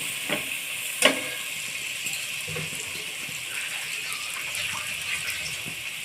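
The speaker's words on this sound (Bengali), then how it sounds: "কষিয়ে নেওয়ার সময় আমি দিয়ে দেবো সামান্য পরিমাণের জল যাতে মশলাটা না পড়ে যায়" A little water is poured into spice masala frying in a pan for a pabda fish curry, a brief splash and knock followed by a steady hissing sizzle with a few soft stirring scrapes, close and without talk.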